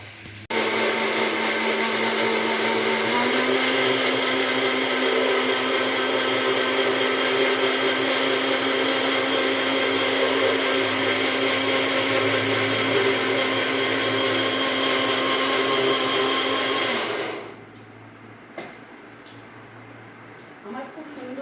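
An electric grinder whirs loud and steady as mustard and poppy seeds are ground into a fine paste, with the pitch rising slightly early on. The motor stops abruptly near the end, leaving quiet room noise.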